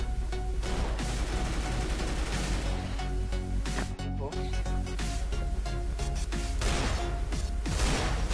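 Rapid gunfire crackles in dense bursts amid loud explosive effects in a 2v2 Counter-Strike: Global Offensive match, with voices talking underneath.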